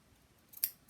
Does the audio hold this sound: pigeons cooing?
no